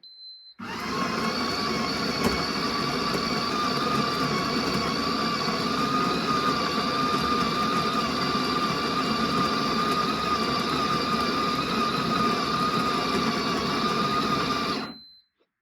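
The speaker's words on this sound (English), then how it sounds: "So we'll pop that up to grind size 15. Press start grind." A Ninja Luxe Cafe Premier Series coffee machine grinds coffee beans at grind size 15. It makes a steady, loud, high-pitched whirring drone that runs unbroken for about fourteen seconds and then stops abruptly.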